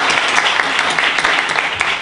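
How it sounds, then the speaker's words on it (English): A live audience bursts into loud, dense applause, a steady close wash of clapping hands filling the whole moment. "A huge round of applause for Abigail."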